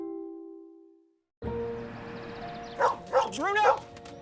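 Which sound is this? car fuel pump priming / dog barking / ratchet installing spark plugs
dog barking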